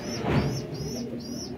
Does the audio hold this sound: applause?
no